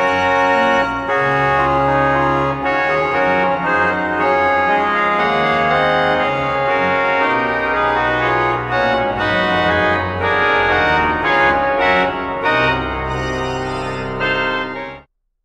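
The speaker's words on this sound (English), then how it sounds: "when everything goes down onto the tuba, it sounds like this." A pipe organ played loudly on its tuba stop in a recital, a dense, sustained full chord texture filling the space for about fifteen seconds before cutting off abruptly.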